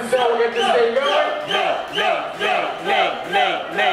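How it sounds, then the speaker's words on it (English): A large crowd at a burger eating contest cheers and chants in rhythmic, loud bursts, repeating roughly twice a second, with voices rising and falling together close by. "He's got the loudest crowd for sure."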